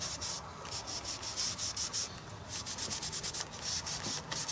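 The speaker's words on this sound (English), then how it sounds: "it feels like I'm wiping it right back off when I use the baby wipe" Paint being wiped off a paper page with a baby wipe, a close rhythmic rubbing and scrubbing that repeats steadily without talk.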